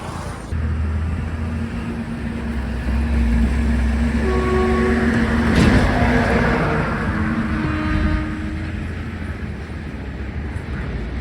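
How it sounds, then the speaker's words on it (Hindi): The Gatimaan Express train rumbles across a railway bridge on the Bhopal–Delhi route near Agra, a loud, sustained rolling roar of wheels and cars with a horn-like tone rising briefly midway. "इस समय ये गतिमान एक्सप्रेस इस ब्रिज से होकर के निकलते हुए गतिमान एक्सप्रेस।"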